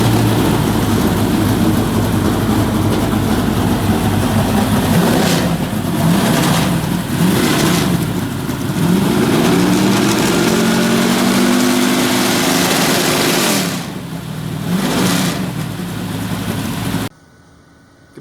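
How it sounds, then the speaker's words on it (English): A Ford race engine in a home workshop roars loudly and steadily for about seventeen seconds, with a few rev swings and a rough, throbbing idle, before cutting off abruptly. "We all miss the sound of engines, so let's fire it up."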